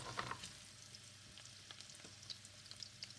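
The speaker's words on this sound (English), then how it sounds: "Now you can see it's quite hot now because it's sizzling the onions." Onions sizzle and crackle in hot oil in a pan, a soft steady frying hiss dotted with small pops, fairly quiet and close.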